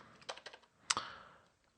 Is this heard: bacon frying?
no